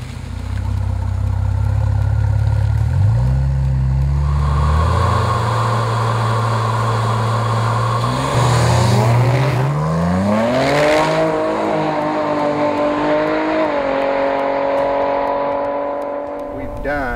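A modified 2012 Chevrolet Camaro 2LT RS with a twin-turbo V6 running about 20 pounds of boost revs loudly up close, climbing through several rising sweeps from idle before settling back to a steady drone.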